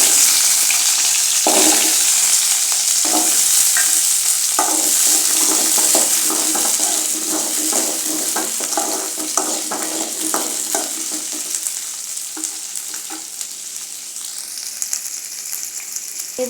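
Shallots and curry leaves fry loudly in hot oil, a steady crackling sizzle broken by repeated scraping clatters of a spoon stirring the pan, with no talk.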